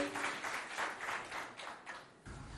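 A faint, distant wash of audience applause greets a high school team at a school quiz event, a steady patter of many hands fading near the end.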